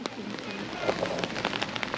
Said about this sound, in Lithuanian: Ir tas lietus, taip gerai.